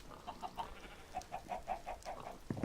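Chickens in the Minecraft Better Than Wolves mod cluck in a soft, steady series of short, evenly spaced calls, faint and close, over a quiet background.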